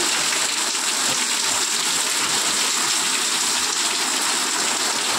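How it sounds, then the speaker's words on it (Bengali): Rain falls with gusty, stormy wind on a sudden afternoon downpour in Nadia, a continuous close rushing hiss that holds steady throughout, with no voices. "ঝড়ো হাওয়া বইছে"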